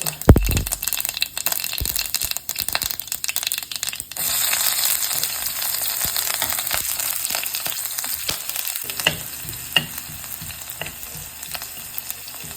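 Chopped onion hisses and sizzles steadily in hot oil, with frequent scraping and clattering of a spatula stirring the pan throughout.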